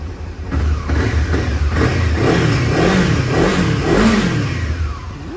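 A 2007 Honda CBF 500 ABS motorcycle engine with 58 horsepower revs up and down, its mid-pitched drone rising and falling in smooth, repeated sweeps. It is close and loud throughout, with no talking.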